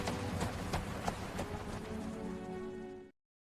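Horse hooves clip-clop steadily on a dirt road as a carriage is pulled through a frontier-era Los Angeles plaza, a close, brisk rhythm of repeated strikes that stops abruptly.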